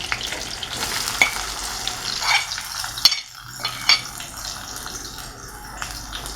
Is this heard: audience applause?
no